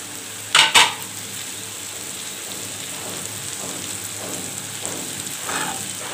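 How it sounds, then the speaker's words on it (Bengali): Okra tossed into onions frying in a pan for a Bangla village-style fry: two sharp metallic clanks up front, then a soft, steady sizzle with faint stirring scrapes. "এখন আমি ঢেঁড়সগুলো দিয়ে দিব। পেঁয়াজটা ভাজা হয়ে আসছে,"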